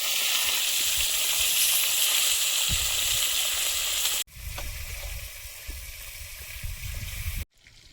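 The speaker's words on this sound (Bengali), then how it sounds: "তেল দিয়ে দিচ্ছি, মাছগুলো ভেজে নেব। একে একে মাছগুলো দিয়ে দেবো।" Pieces of bhola fish sizzle loudly in hot oil in a pan. The bright, steady frying hiss is close and continuous, broken by two abrupt cuts with brief pops and crackles.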